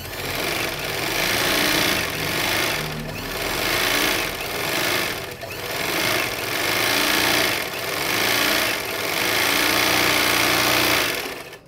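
An overlock sewing machine runs continuously with a steady, dense whir and a rapid needle clatter, pulsing slightly as the pedal-driven motor keeps going for about twelve seconds without talk.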